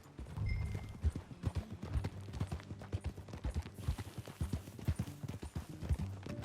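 Horse hooves clip-clop along while riding in Red Dead Redemption 2, a quick uneven rhythm of fairly close, moderately quiet footfalls continuing throughout with faint background ambience.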